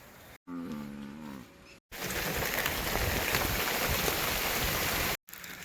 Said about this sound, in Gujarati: અત્યારે વરસાદ જુઓ ધોધમાર પડી ગયો છે